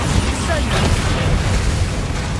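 Bombarda spell explosion in Hogwarts Legacy, a dense booming blast filling a short stretch of game audio, with a voice present around it.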